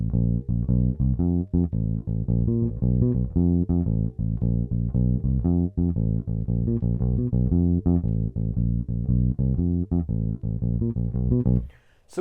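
An electric bass walks a steady eighth-note blues shuffle starting on F, with even, bouncing low notes that run without a break for about twelve seconds and stop abruptly at the end.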